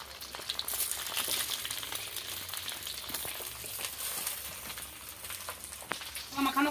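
Marinated chicken sizzles steadily in hot mustard oil in a kadai, a continuous bright frying hiss with crackling spatter throughout and a few sharper pops near the end.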